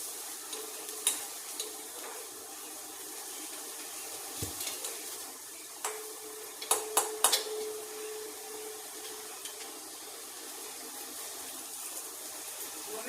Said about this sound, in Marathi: कांदा लाल जरत परतायचा.